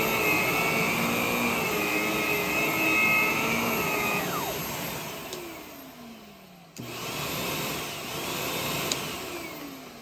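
An Aerus Lux Guardian upright vacuum cleaner runs close by with a smooth, muted motor whine that winds down in pitch, dips, then surges back up as the motor spins again.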